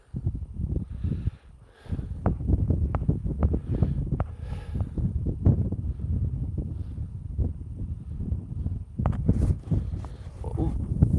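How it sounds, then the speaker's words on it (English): Strong wind blows snow outdoors in frigid northern Canada, buffeting the microphone in a steady rough rumble with gusty surges, while a person talks over it throughout. "the wind is making snow drifts"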